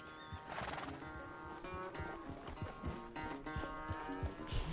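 A horse in the video game Red Dead Redemption 2 clops along with steady hoofbeats while whinnying and snorting over them. A low musical drone sits faintly underneath.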